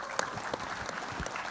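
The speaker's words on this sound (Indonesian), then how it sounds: "Tepuk tangan untuk ini." Applause from an audience at a school monument inauguration ceremony in West Java, a steady wash of clapping with a few sharper claps standing out, moderately loud and continuous.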